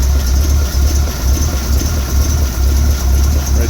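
A 1974 International 1600 truck engine runs just after a cold start with the choke pulled, giving a loud, steady, low rumble with a rough, uneven throb and no talking.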